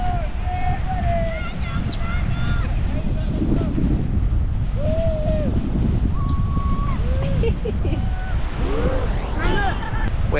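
Ocean surf washes steadily onto a rocky beach with rock pools where people are bodyboarding, a continuous broad roar with wind noise on the microphone and faint voices and birdlike calls mixed in.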